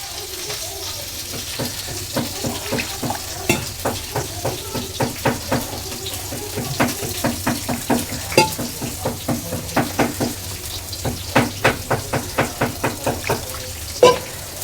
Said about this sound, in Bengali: আমি ময়দাটা গুলে নেব